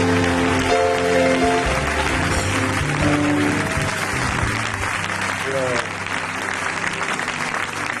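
A church congregation applauds and cheers in praise of the Lord, with dense, sustained clapping and voices calling out loudly throughout the crowd.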